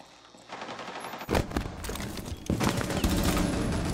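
Bursts of automatic gunfire in a Rainbow Six Siege ranked match, starting faint then hitting loud rapid volleys at about 1.3 and 2.5 seconds, sustained and close.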